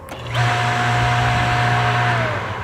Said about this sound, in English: we're going to go ahead and turn the pump on manually